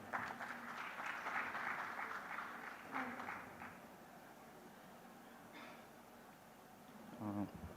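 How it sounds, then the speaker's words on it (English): Applause from an audience at a sustainability summit in Gujarat fills the first few seconds with dense clapping, then fades to a quieter room with scattered sounds. "Round of applause,"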